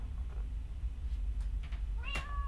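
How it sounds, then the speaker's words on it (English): A Minecraft cat gives one short rising meow near the end, preceded by faint scuffs over a steady low hum, with no voices. "I think I got a cat"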